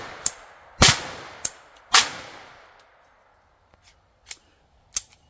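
A Taurus TX22 pistol with an FRT trigger fires sharp, irregularly spaced shots, the two strongest close and ringing early, followed by fainter cracks separated by quiet gaps.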